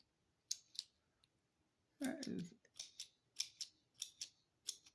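Scissors snip through knitting yarn during a loom-knitting leg warmer project, a burst of crisp closing cuts followed by a steady run of sharp snips, close and fairly faint.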